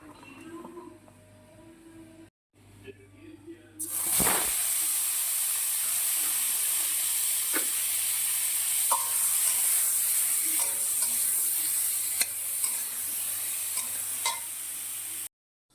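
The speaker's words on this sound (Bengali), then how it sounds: "কড়ার মধ্যে তেল গরম হয়ে যাওয়ার পরে কোনো সবজি দিলে এই যে ছ্যাঁক করে একটা শব্দ হয়" Eggplant pieces dropped into hot oil in a wok-style pan set off a loud, steady sizzle after a few quiet seconds, holding strong and continuous with faint stirring until it cuts off abruptly near the end.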